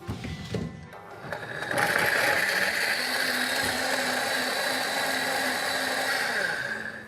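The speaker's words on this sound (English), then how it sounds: "We just wazz it up now until it's vivid green." Kitchen blender whizzing a green sauce thickened with flour, starting with a clatter and then settling into a continuous high whirring for several seconds.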